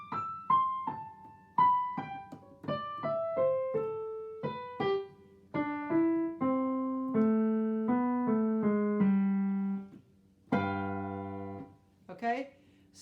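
Solo piano plays the opening introduction of Scott Joplin's ragtime piece The Entertainer, a run of crisp, separate notes descending in steady rhythm before sustained closing chords, heard close and clear with no talking.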